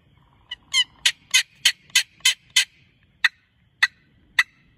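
Sharp, clucking yelps from a wooden paddle turkey call made of two different woods imitate a jake turkey, sounding as a quick burst of about eight rhythmic clucks followed by three spaced single clucks, close and clear.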